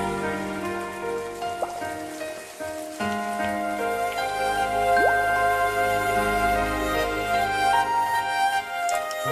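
Steady rain pattering on a surface, close and continuous, with sustained musical tones ringing beneath it and no voices.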